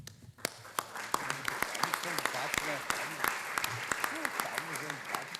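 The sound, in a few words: audience applauding after a speech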